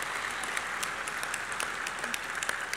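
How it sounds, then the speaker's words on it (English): Steady audience applause fills a convention forum hall, dense continuous clapping from a large crowd throughout, with no talking over it. "So give everybody up here a round of applause for that."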